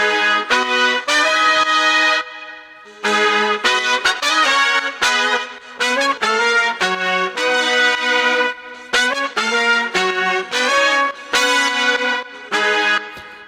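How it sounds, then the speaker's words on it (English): Layered trumpet horn section in an electronic dance track, punchy brassy chords stabbing in rhythmic phrases with short gaps, loud and upfront with no voices. "then you add these horns. It sounds like this."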